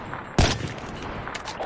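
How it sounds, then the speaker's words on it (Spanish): A single loud burst of gunfire aimed at a helicopter in the M13 video game, a sharp broadband crack followed by a short decaying tail over low background game noise. "¿Cuántos disparos necesita el pinche helicóptero para explotar?"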